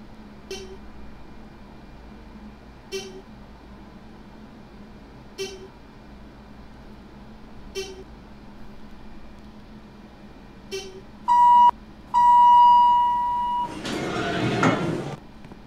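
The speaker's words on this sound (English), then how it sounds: "These are the parking elevators at Bangles Mall on Roblox. They're either Dover or Thyssenkrupp." Dover or Thyssenkrupp traction parking elevators at a mall parking garage in the Roblox game, with evenly spaced short chimes, then a sustained tone, a door sliding, and a loud rushing burst near the end.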